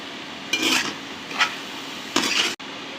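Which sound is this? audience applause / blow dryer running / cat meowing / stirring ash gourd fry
stirring ash gourd fry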